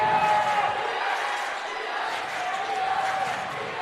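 A home crowd at a high school regional basketball game, Webber Trojans against Altamont Indians, roars in a steady, loud wash of cheering that fills the gym, with a commentator talking over it.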